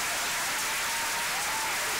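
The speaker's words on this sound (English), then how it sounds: "Let's give him a roaring round of applause tonight." An audience applauds on a live call-in show: a steady, uniform wash of clapping at even loudness throughout, with no voices over it.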